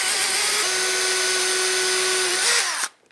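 A power drill bores a pilot hole through a wooden composter slat using a drilling jig, a steady close whine held for nearly three seconds before the motor stops abruptly.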